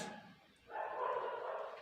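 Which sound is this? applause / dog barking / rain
dog barking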